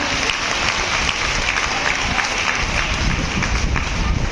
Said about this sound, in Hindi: तो एक जोरदार ताली होनी चाहिए।